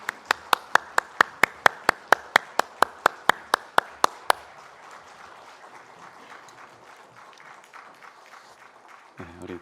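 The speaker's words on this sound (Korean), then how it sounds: "하나님께 영광의 박수 올려드리겠습니다" A church congregation at a Sunday service claps in a steady, fast unison rhythm for a few seconds, then breaks into looser, scattered applause that fades out.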